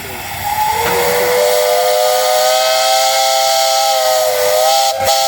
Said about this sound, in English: Hey guys, you got a whistle up there.